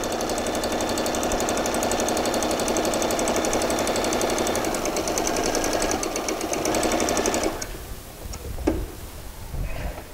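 A sewing machine runs a fast, steady stitch along the inside leg seam of shorts, a close rhythmic rattle and hum that stops near the eight-second mark. Light handling clicks of the fabric and machine follow.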